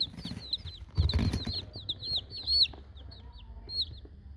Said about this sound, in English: I got 10 of the Easter egg laying chickens